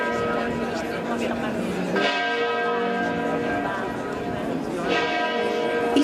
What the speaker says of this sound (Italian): Il suono delle campane a festa ha rotto il silenzio.